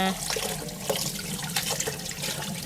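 Cold water running from a tap over boiled pork in a kitchen, a steady close splashing and gurgling stream throughout, with no speech.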